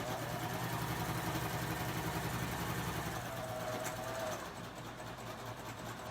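A Baby Lock serger fitted with a curve foot runs at a steady speed, a continuous close mechanical whir that eases slightly in the last couple of seconds.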